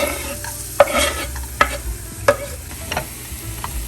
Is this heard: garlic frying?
yes